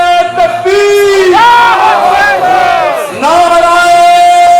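A large outdoor crowd at a Jashn-e-Eid Milad un Nabi procession in Southall, London chants a loud, sustained unison reply to a religious slogan, many voices blending into one swelling, drawn-out cry.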